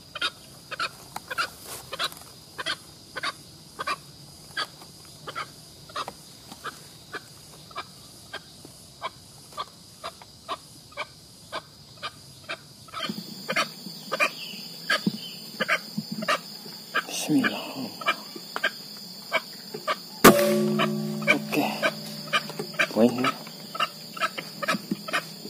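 Jungle fowl crowing in an Indonesian forest, repeated calls over a dense backdrop of insects and birds, growing busier and louder partway through, with occasional quiet talk.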